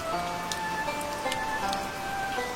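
Steady rain falls on a city street in the rainy season, a continuous patter with occasional sharper drips, with a faint tonal hum beneath it.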